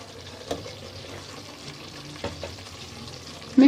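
Fried potatoes and beetroot are stirred into chura matar in a pan, with a soft sizzle under a few scraping stirs and a louder clatter at the end.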